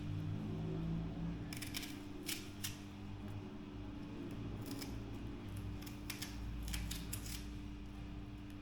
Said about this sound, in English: Get the pepper cut up same time.